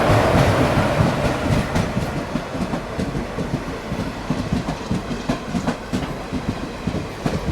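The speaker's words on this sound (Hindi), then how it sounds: "वलसाड़ शेड के WAP 4 के साथ सूरत मैंगलोर जंक्शन एक्सप्रेस।" The Surat–Mangalore Junction Express passes close by, hauled by a Valsad-shed WAP 4 electric locomotive, with loud, steady rhythmic clickety-clack of wheels over rail joints and a rushing roar that eases slightly as the coaches roll past.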